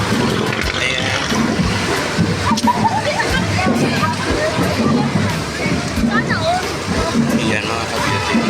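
Floodwater on a flooded city road sloshing and splashing steadily, with someone talking over it and crowd chatter behind.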